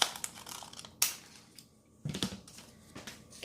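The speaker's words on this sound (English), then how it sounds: "So I'm gonna cut this little piece off." Scissors cutting a small piece off a greeting card, a few close, crisp snips and crunches with short pauses between them, no voices.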